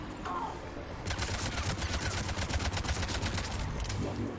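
Enemy gunfire in Mass Effect 3 bursts into rapid, sustained automatic rattling after a brief quiet start, loud and close, with crackling shots overlapping in a dense volley.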